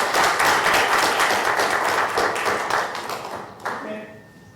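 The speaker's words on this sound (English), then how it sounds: "And now, we want to give a big applause to all of you." Audience applause closes a languages and careers event, dense clapping with a few voices mixed in, fading over the last second.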